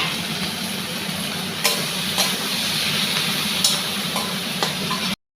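A spice paste loosened with water hits hot oil in a pan and gives a continuous close hiss and sizzle, with a few sharp crackles and pops scattered through it and no talking.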